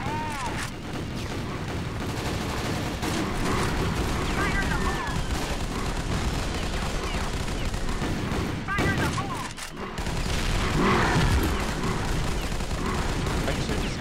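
Shooter game Crossfire: dense, continuous gunfire during a fight against a monster horde and boss, with a brief lull and then a heavier blast-like burst near the end; nearly unbroken, loud and close.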